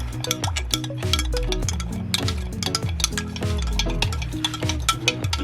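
A utensil stirs brine for fermenting carrots, scraping and clinking against the container in quick repeated strokes, close and steady, with no talking.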